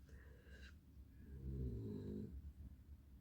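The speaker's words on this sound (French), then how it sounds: "Désolé pour les ronflements." A pet dog snores softly nearby, one drawn-out rumbling breath with a low buzzing rasp on the inhale, over quiet room background.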